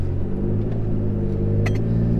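A 2022 Toyota Tacoma truck fitted with new 4.88 or 5.29 gears drives along with a steady low engine rumble and road drone, heard from inside the cab, with a couple of brief higher-pitched squeaks or rattles.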